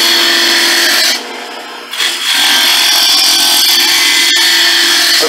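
A wood lathe with a carbide-tipped tool cuts green walnut in loud, rough, raspy bursts. The cutting stops briefly near the one-second mark, then resumes continuously up close.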